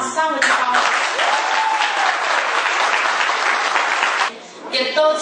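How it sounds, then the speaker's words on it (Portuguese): An auditorium audience at a municipal education council swearing-in ceremony gives loud, sustained applause for a member of the Conselho Tutelar, dense clapping filling the room before a voice speaks briefly at the end. "Vamos dar uma salva de palmas."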